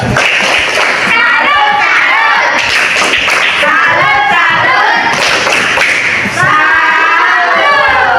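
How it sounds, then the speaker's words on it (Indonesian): A classroom of children performs a tepuk salut cheer, chanting together in bursts punctuated by loud, sharp rhythmic claps, close and lively. "tepuk salut dulu kita ya, tepuk salut ya"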